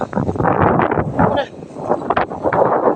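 Strong gusty wind blows outdoors on a rural walk, roaring and buffeting steadily throughout with rumbling surges, and a voice partly buried beneath it.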